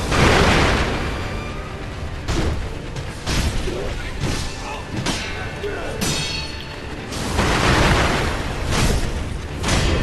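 Firecracker prosthetic tool in the video game Sekiro goes off amid loud game combat, with several sharp bursts and crashes spread across a dense, busy mix.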